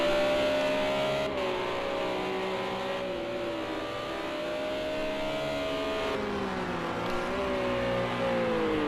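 A Renault RS 01 race car engine in the video game Project Cars 2 drones at high revs, its pitch dipping on a lift and climbing again as the power comes back on.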